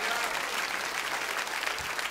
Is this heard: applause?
yes